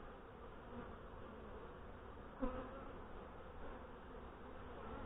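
Honey bees and a wasp buzz around a beehive during a late-September inspection, a steady low drone throughout with one brief nearer pass midway.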